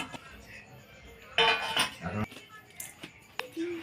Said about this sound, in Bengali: থালা থেকে গামলিতে ঢেলে নেব